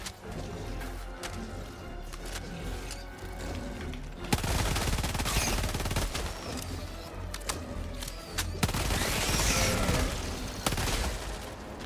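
A sentry turret in the game Helldivers 2 fires rapid bursts of gunfire, dense and loud, with sharp cracks and explosive hits piling up and growing heavier toward the end.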